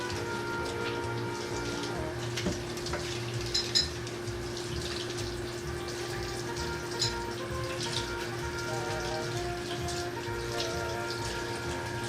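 Water runs and splashes while butter is washed off a pan during fudge making, a steady close patter of falling water with light clatters.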